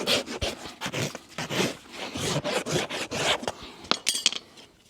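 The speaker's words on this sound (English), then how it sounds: "Just run our rasp over the hoof, just so we get a nice, level, flat surface, ensuring it's balanced." A farrier's rasp filing a horse's hoof flat and level in quick, repeated rough strokes, close and distinct, with no voices.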